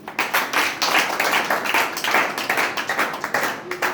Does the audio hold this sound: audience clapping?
yes